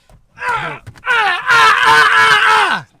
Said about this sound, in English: and scream and scream and scream